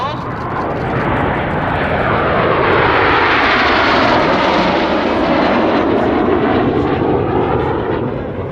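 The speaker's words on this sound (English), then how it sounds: "The aircraft moving like a pendulum as they enter the turn." Red Arrows jet formation roaring overhead at an airshow, a loud sustained broadband rush that swells and holds steady throughout, with a commentator's voice running beneath it.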